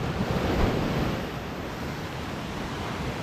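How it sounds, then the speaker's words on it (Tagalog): Big ocean waves crash and surge continuously close to the microphone, with wind buffeting over the steady roar of the surf. "Sobrang talaga lalaki ng alon"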